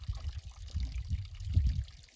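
Water pours and trickles in a soft, uneven stream, quiet and close, swelling slightly toward the end.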